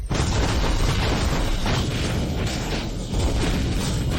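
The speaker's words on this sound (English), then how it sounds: "Fire the cannon." Cannon fire: a loud, sustained roar of booming blasts that runs through the whole clip, with no clear gaps between the explosions.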